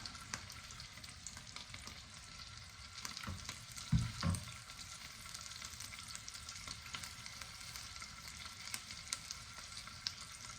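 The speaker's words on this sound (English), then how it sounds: "Just sear that off just to close it up." Wood pigeon breast searing in a pan, a continuous soft crackling sizzle heard close but fairly quiet, with a brief louder clunk or pan movement partway through and no voices.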